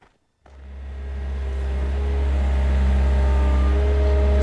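A big farm tractor's engine starts up and settles into a loud, steady low rumble with a rising drone, running alone close by.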